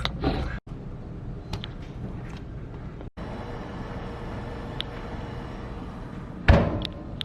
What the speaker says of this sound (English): So I'm gonna put this into the oven now